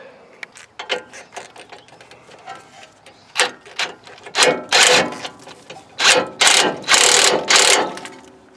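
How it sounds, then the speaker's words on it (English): A ratchet tightens the ball joint nut on a Nissan Titan strut during a Rough Country strut replacement, giving bursts of quick, close clicking strokes that come in irregular groups, loud and dry, with no talk over them. "And then we can tighten our ball joint nut"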